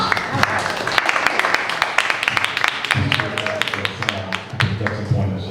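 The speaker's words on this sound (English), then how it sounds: "let's give another round of applause" Applause from the audience at a tech panel event, with scattered claps rising and thinning across several seconds, a voice speaking over and between them and low room murmur underneath.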